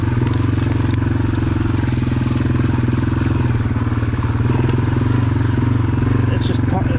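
A Yamaha TW200 motorcycle creeps slowly over off-road terrain, its engine putting out a steady, loud low thumping drone throughout while the rider talks.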